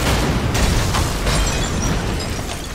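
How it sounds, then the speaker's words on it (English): Explosions from fireworks in the video game A Way Out form a continuous loud, booming roar, with repeated bursts layered over one another and no speech. "Fireworks."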